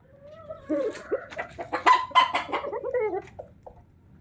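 Bishop Kelso roosters cluck in their coops at a farm in San Miguel, Bulacan, a close run of several bright, overlapping clucks and short calls over a few seconds, rising to a peak and then tapering off.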